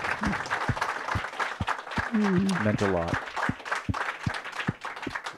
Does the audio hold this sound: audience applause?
yes